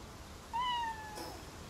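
A single short, rising-and-falling cat meow from a creature in the video game Palworld, fairly faint over quiet background ambience.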